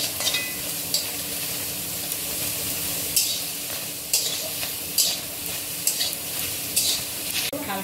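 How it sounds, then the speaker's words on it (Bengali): Green chillies and garlic fry in a wok, giving a continuous loud sizzle with periodic scraping stir strokes from a spatula and no talking. "কাঁচা লঙ্কা, রসুন দিয়ে দিচ্ছি। কড়াইতে একটু নামিয়ে নেব।"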